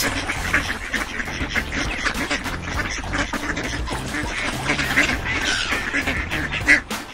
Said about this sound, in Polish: Kaczka kwacze. Kwa, kwa.